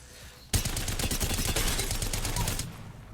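Rapid sustained burst of automatic fire from the Havoc rifle fitted with a turbocharger in the video game Apex Legends, about two seconds of loud, dense shots that start abruptly and then cut off.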